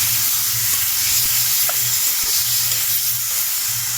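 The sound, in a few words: tomato paste and green chili paste being stir-fried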